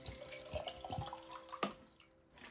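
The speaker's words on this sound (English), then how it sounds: "I just empty it into a well sanitized water bottle." Water from a small bottle of Volvic being emptied into a clean water bottle, a steady splashing pour with a few louder plops and glugs, close by with no talking.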